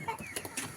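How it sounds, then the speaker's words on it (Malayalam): Two-month-old vaccinated Giriraja chickens let out a few quick, soft clucks close by, brief and scattered. "ഈ ഗിരിരാജ കോഴികളൊക്കെ തന്നെയും 2 മാസം പ്രായമുള്ള കോഴികളാണ്"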